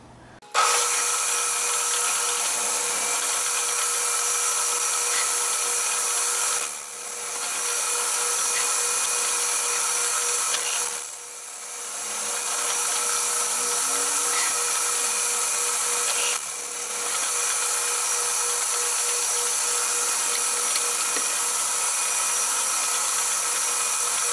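A steady, high-pitched whine of a drill running continuously while drilling holes in a metal motorcycle part, with a few brief dips in pitch and loudness as it bites into the metal.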